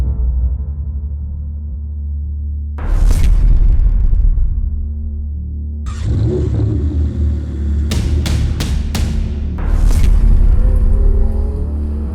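A Ferrari 488 Pista with a 3.9-litre twin-turbo V8 starts up and drives off. Its low engine rumble swells in loud surges, and sharp pops and bangs break through the sound. No one speaks.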